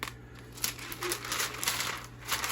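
Wrapping paper around a block of homemade lard crinkles and rustles as it is folded over, a close, steady papery crumpling with small crackles over a faint background hum.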